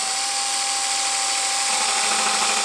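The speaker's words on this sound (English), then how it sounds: "We remove the drill and commence completing our second hole" A power drill bores a hole for installing a South Pacific boat windlass, giving off a steady, close, high-pitched whine that holds throughout.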